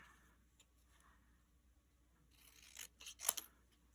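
Scissors trimming the edges of card stock for a handmade greeting card, a few quiet snips and crisp cuts clustered near the end over a faint, otherwise silent room.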